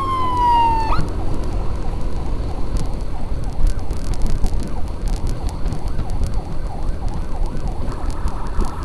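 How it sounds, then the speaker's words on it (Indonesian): A loud ambulance emergency siren wails continuously over road noise, with a rising and falling pitch sweep and a short electronic tone at the start. "Sirinenya pakai sirine darurat ya"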